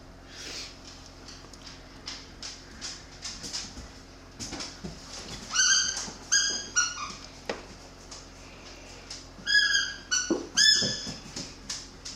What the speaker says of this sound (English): You want to hear this squeak toy that he's playing with?